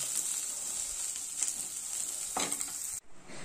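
Soybean stirred into fried onions in a pan, a soft steady hiss with a few brief scraping stirs, close and fairly quiet.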